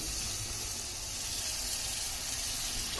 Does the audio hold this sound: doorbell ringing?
no